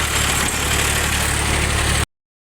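A Sonalika tractor engine idles steadily with a constant low throb and mechanical hum for about two seconds before stopping abruptly.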